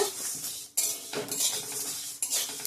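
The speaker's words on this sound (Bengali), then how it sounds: "সবগুলো ভালো করে ভেজে নেব" Fenugreek and fennel seeds are dry-roasted in a pan and stirred with a metal spoon, giving close, repeated scraping and clinking strokes against the pan with brief pauses between them.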